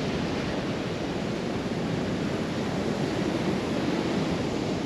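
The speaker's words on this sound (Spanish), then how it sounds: "a mi parecer hay demasiadas olas" Ocean waves breaking steadily at Los Caracas beach in La Guaira, Venezuela, a continuous broadband roar of surf with wind noise, close and fairly loud throughout with no voices.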